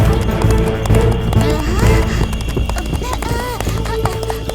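Cartoon horse hooves clip-clopping at a steady trotting rhythm, close and clear, mixed with background music and effects in an animated village scene.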